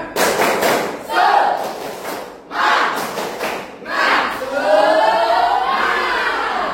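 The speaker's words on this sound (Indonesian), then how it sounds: "Yaitu tepuk semangat." A seventh-grade class in an Indonesian language lesson performs the tepuk semangat clapping routine: loud, close bursts of group clapping and thumping come in repeated waves, mixed with the children's chanting voices.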